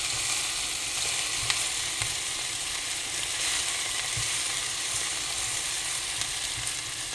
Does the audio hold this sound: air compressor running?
no